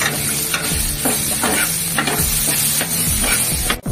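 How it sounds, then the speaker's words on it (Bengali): Onion and green chili frying in a pan with spices, a loud close sizzle under repeated scraping stir strokes in a steady rhythm, ending with a sharp clack. "ভাজবো ভালো করে"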